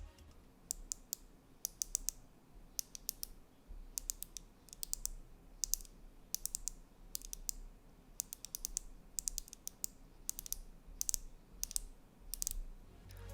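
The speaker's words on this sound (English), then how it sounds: "the clicks it produces almost make it feel like one of those super satisfying fidget spinners" Small rapid clicks come in short bursts over and over, a ratcheting detent sound as the volume knob on a Nuphy Field75 wireless keyboard is turned, quiet and close.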